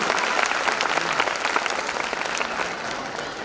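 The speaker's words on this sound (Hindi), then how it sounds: "सारे पेरेंट्स अपने लिए जोरदार तालियां बजाएं" Parents at a school annual function burst into loud, continuous clapping, a thick crowd of hands sounding steadily for the whole stretch with no voices rising above it.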